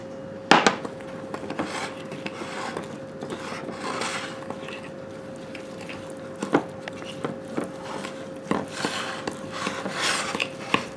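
Brown sugar crumble topping being stirred in a bowl, with soft gritty scraping and rubbing strokes and a few sharper knocks of the utensil against the side, steady and fairly close.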